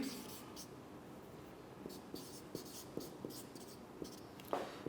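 Chalk or marker writing on a board during a chemistry lecture, a string of faint, short taps and strokes at an uneven pace over a quiet room hiss.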